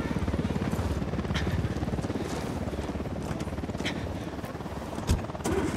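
A helicopter in the video game Ghost Recon Wildlands makes a steady, fairly loud rotor chop with a rhythmic low pulse throughout, and a brief thump near the end.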